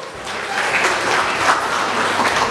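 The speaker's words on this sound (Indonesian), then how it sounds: "Boleh tepuk tangannya Pak?" Audience applause at an Indonesian official gathering honoring local council members, a steady, fairly loud burst of many hands clapping with no speech over it.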